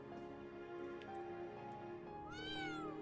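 A cat meows in the video game Trails of Cold Steel III, a single drawn-out rising and falling call near the end, heard over steady game background music.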